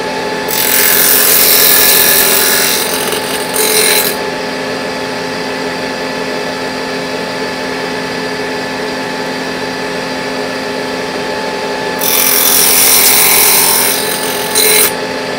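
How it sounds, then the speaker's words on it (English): A power saw cutting a dado in wood, two loud close whining bursts of about three seconds each separated by a long steady motor run, with the blade biting harder at the start and end. "And I'll line that one there up to make the first dado cut."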